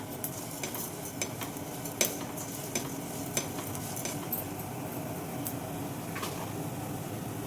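Black peppercorns are stirred in a hot pan, a steady soft sizzle broken by scattered light metallic scrapes and taps of a spoon against the pan, close up and without voices.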